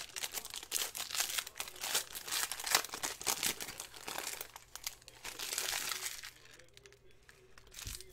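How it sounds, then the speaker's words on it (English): A foil trading card pack wrapper, a 2015-16 Upper Deck SP Game Used hockey pack, is ripped open, loud crinkling and tearing crackles bursting close by, then tapering off to quiet. "I have to be like the Hulk and rip that up."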